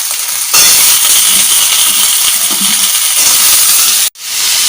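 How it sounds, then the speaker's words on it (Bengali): Potatoes fry with tomato and onion in hot oil, a loud continuous hiss and sizzle that jumps up sharply near the start, holds steady, then cuts out abruptly before resuming. "আলু দিয়ে দিচ্ছি, আলুগুলো একটু ভেজে নেব।"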